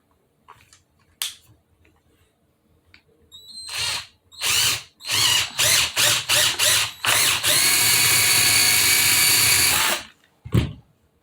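A power drill whirs in several short bursts while fitting vent windows on a 1964 Ford F100, then runs in one long sustained whine before stopping, close and loud.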